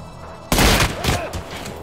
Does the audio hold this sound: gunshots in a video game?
yes